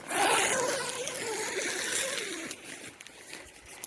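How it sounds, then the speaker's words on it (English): A double zipper on the door of a cheap Amazon tent is pulled open, one long rasping zip near the mic lasting about two and a half seconds, fading into quieter rustling. "So if we come down here, we've got to unzip the door."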